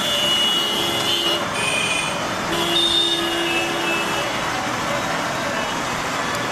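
Road traffic at a busy city intersection, a continuous rumble of cars, trucks and buses with several car horns sounding briefly at different moments over the steady noise.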